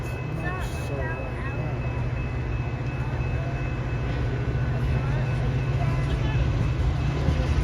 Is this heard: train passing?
yes